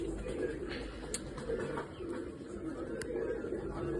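Pigeons coo in a steady low murmur that runs through the whole stretch, with a few faint higher chirps over the top and no talking.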